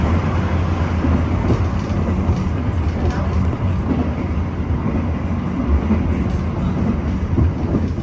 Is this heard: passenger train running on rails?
yes